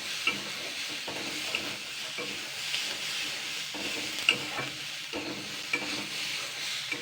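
Steady frying sizzle with a bright hiss as peanuts and green chillies fry, broken by repeated scraping stirs and a few sharp clinks of a utensil against the pan.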